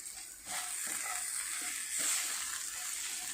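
Ivy gourd fry being stirred in a pan after roasted urad dal and chana dal powder are added, a continuous soft sizzle with a few scraping stirs, no talking.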